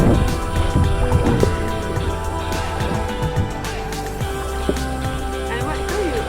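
A sailboat moving on the water off Lahaina, Maui, with constant wind rush and water noise filling the whole stretch, and voices talking faintly underneath.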